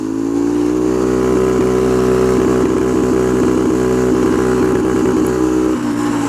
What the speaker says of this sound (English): whenever it hits 8k RPMs it just stops